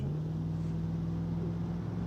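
A car engine held at full throttle going downhill in the BeamNG driving game, an 80s American premium car, giving a steady droning hum with a constant low engine tone and no talk.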